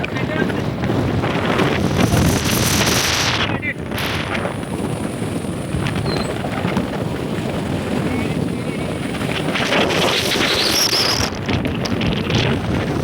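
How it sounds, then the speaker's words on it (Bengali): Steady wind gusts across an empty rural village road in Bengal, a loud continuous rushing with heavy microphone buffeting and faint insect chirps, no voices. "গ্রাম বাংলার একটা এই যে বাতাসটা নিয়েই মজা আলাদা"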